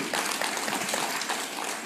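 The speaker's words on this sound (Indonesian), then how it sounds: "Ya tepuk tangan Bapak Gubernur" Audience applause for the Governor at a public gathering in Batam, a steady dense patter of many hands clapping throughout, moderately loud and continuous without talk.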